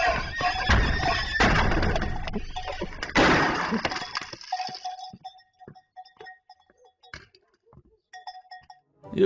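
A horse passing a dentist's office in São Luís do Piauí whinnies and crashes into a glass window, a loud burst of impact and breaking glass followed by scattered clattering and fainter squeals trailing off.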